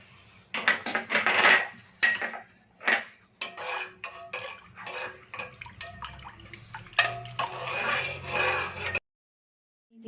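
Raw egg stirred into minced momo meat filling in a bowl, with repeated wet scraping and clinking of a spoon against the bowl in uneven bursts, close and fairly quiet, then stopping near the end.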